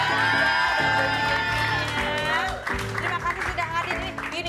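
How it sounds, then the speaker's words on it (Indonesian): A studio audience at a televised Indonesian celebrity talk show breaks into applause and cheering. A bright crowd roar mixes with sustained tones, and the clapping grows more scattered and textured toward the end. "Ayo kasih tepuk tangan dong buat Charlie."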